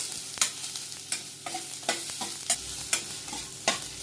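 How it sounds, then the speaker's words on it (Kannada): Onion and garlic frying in hot oil in a pan for mutton gravy, a soft continuous sizzle punctuated by regular spatula scrapes about every half second. "ಹೀಗೆ ಈರುಳ್ಳಿ ಮತ್ತೆ ಬೆಳ್ಳುಳ್ಳಿನ ಕೆಂಪುಗಾಗೋವರೆಗೂ ಫ್ರೈ ಮಾಡ್ಕೋಬೇಕು"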